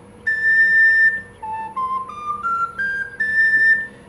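A PVC Cherokee four-hole whistle plays a simple tune of clear, breathy notes, stepping up a scale and ending on a sustained high tone, with no voices.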